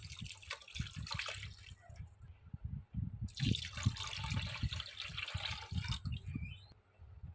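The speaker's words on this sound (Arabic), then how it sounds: "ننزل عليهم بكوبايتين سكر وكوبايتين لبن" Sugar and milk poured onto four eggs for a simple home cake batter, a steady wet liquid pour with splashes that swells, pauses briefly, then resumes, close and with no talking.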